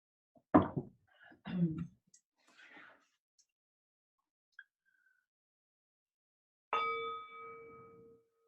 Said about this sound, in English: Maybe I'll do that occasionally, a bell.